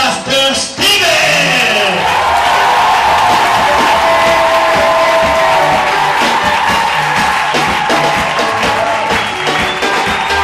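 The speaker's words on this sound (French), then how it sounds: "sous vos acclamations" A church congregation cheers, whoops and applauds in acclaim of a pastor being invited onto the stage, a loud, sustained roar of crowd noise filling the hall after a brief opening voice.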